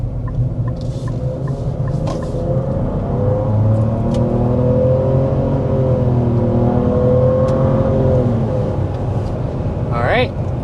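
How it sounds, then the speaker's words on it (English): A turbocharged three-cylinder 2025 Nissan Rogue under hard acceleration gives a loud, steady drone from inside the cabin, its tone climbing gradually before easing off near the end. "we want to go ahead and start with a hard acceleration"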